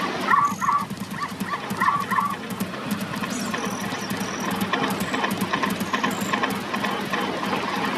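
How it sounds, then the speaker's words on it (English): A white dog in the Zelda Ocarina of Time video game yips and barks in short bursts over steady game background noise, with the barking clearest early on. "Okay, this dog better be Richard."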